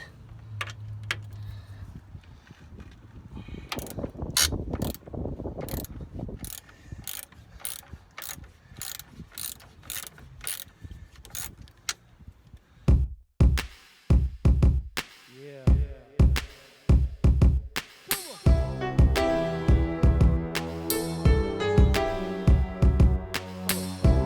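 Ratchet wrench working loose the caliper bracket bolts on a Chevrolet Cobalt SS during front wheel bearing replacement, heard as a rapid run of close, sharp clicking bursts, then heavier metallic clanks and ringing tool contact.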